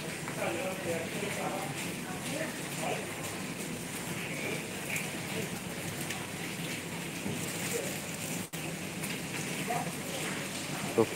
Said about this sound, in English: because there is a heavy rain now